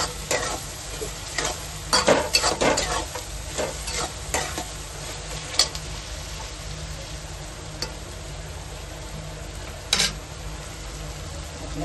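Tomatoes with half a spoon of salt sizzle and fry in a pan for tiny shrimp, with steady crackling and a few louder stirring scrapes and knocks near the start and around ten seconds.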